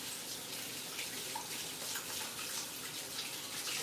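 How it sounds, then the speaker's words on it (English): Water runs steadily from a kitchen tap while hands are washed after handling Crisco, a soft continuous splashing hiss that stays fairly quiet and even throughout. "wash my hands quickly"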